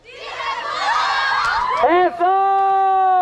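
A crowd of high school students in Mexico shouts a cheer together, voices loud and close, rising into a sustained unified yell.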